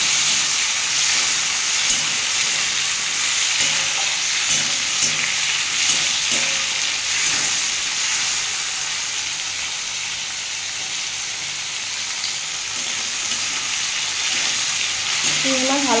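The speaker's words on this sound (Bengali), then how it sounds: "আমি চিংড়ি মাছটা হালকা করে ভেজে নেবো।" Prawns fry in hot oil in a kadai, giving a steady, bright sizzle that hisses on without a break, with occasional soft stirring and hardly any voice.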